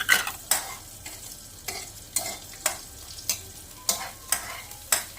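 A spoon scrapes through onions frying in a pan, sounding roughly a dozen regular, close stirring strokes over a quiet, constant sizzle.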